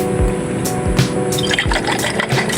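Water sloshes and knocks inside a bottle as it is rinsed and shaken, with a few dull rhythmic thumps over a steady wet wash of liquid, close by and with no voices.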